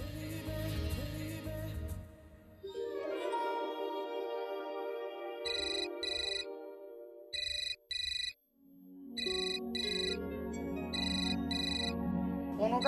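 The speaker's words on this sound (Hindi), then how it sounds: "फोन उठा बेबी।" A phone ringtone trills in repeated paired electronic rings, clear and fairly close, sounding over soft background music.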